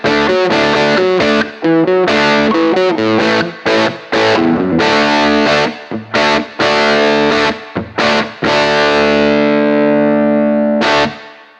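Distorted electric guitar riffs run through a Missing Link Audio Anthem pedal for a mid-heavy southern rock tone, with chopped rhythmic chords and stops, ending on a ringing sustained chord; loud, no talk.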